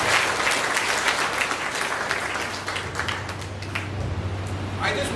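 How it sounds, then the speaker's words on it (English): Applause from a classroom audience after a communication-skills role play, a dense patter of clapping that carries through the whole stretch, with a low hum and some voices mixed in underneath. "Can we give them a round of applause?"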